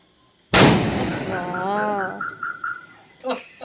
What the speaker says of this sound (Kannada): ಇವಾಗ ಪಟಾಕಿ ಹೊಡಿಯೋಣ ಬನ್ನಿ